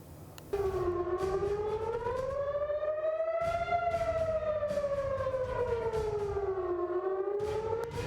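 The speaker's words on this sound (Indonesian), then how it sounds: "Sirine serangan udara berbunyi di seluruh penjuru Tel Aviv" An air raid siren wails across Tel Aviv during Iranian missile attacks, its tone rising and falling in long slow sweeps, loud and sustained over faint background rumble.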